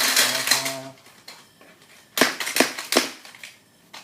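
A Crossfight B-daman toy launcher fires shots in quick succession, sharp close plastic snaps in a rapid burst after a brief hum, with a few clicks and clatter between.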